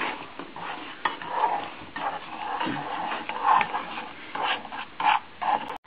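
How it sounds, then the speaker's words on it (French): Sugar mixture being stirred in a pan over low heat, with repeated scraping and rubbing strokes of a utensil against the pan in an uneven rhythm, close and moderately loud. "il faut encore continuer et toujours remuer, hein, sans cesse"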